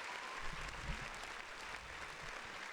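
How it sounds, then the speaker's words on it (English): A round of applause on a podcast plays as a quiet, steady wash of clapping, faint and continuous, with a few low bumps early on. "Round of applause."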